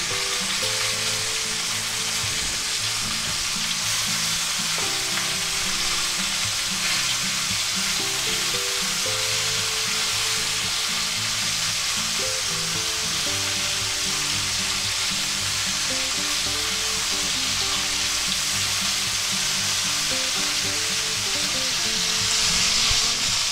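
Chuck roast steaks searing in butter in a hot pan give a loud, steady, continuous sizzle for the whole stretch, with melodic background music running underneath and no talking.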